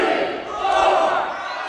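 A wrestling crowd at an indoor show at The Sanctuary roars together in a loud, sustained mass of voices, swelling and holding steady as if calling out in unison during a match.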